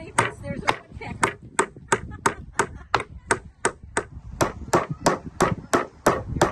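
Hammer strikes driving nails into a wooden bird house, a fast run of sharp, evenly spaced whacks repeated close by, with faint talk underneath.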